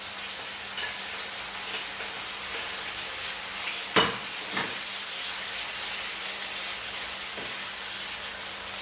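Garlic, onions and tomatoes frying in a hot pan, a steady close hiss and sizzle that runs throughout with a couple of brief clanks from stirring.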